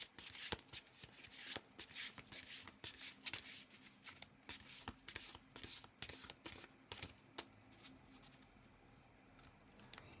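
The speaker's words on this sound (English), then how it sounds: "I'm going to shuffle a little bit off screen." A Goddess card deck is shuffled by hand in repeated quick riffling bursts, crisp and close, with brief pauses between rounds and no talking.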